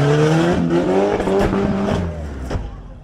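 A monster truck at a show roars loudly and continuously, its engine climbing and falling in pitch as it drives and lands a jump.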